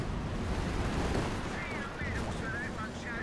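Tank cannon and gunfire from the Company of Heroes 2 strategy game, including a Firefly tank's shot, rumbling as dense, steady battle noise with faint whistling tones layered over it.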